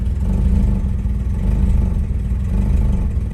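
An Acura RSX (DC5) engine, just started with an S2000 push-start button, rumbles steadily at idle nearby, a low continuous hum with slight revving swells and no talking.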